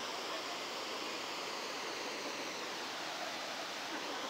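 Janet's Foss, a waterfall at Malham, gives a steady, even rush of falling water heard from a short distance, soft and continuous with no voices over it.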